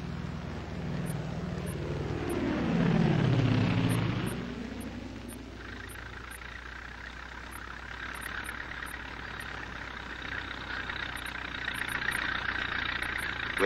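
An air tanker flying over a wildfire, its engine drone swelling loudly as it passes close overhead and then fading away, leaving a lower steady rumble behind.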